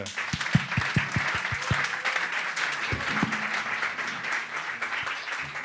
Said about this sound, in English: I think we can applaud Thomas as well